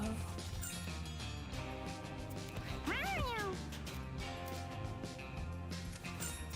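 A cartoonish cat meows once, a bright rising-and-falling call, in the Mewgenics video game, over a steady layer of game music.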